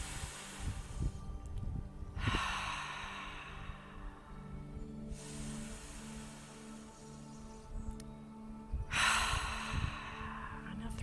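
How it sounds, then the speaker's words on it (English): Three slow, deep breaths, each a long airy inhale followed by a long exhale, heard close and unhurried with short pauses in between. "Take 3 slow, deep breaths"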